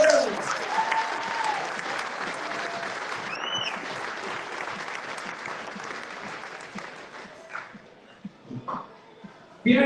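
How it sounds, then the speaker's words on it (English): Sustained audience applause at a Melbourne firefighter stair climb fundraiser presentation, fairly distant and steady for about eight seconds before thinning into a few scattered claps and small noises. "A big round of applause."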